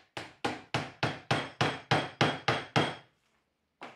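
Hammer striking a nail into bamboo for a floral decoration, ten sharp evenly spaced blows in quick succession, then a pause and one final hit, close and loud.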